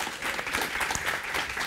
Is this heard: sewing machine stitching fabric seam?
no